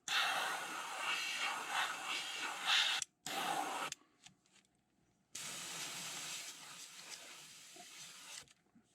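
Airbrush spraying fluorescent orange paint onto fishing lures gives a close, steady airy hiss in long bursts broken by short pauses and a quieter stretch.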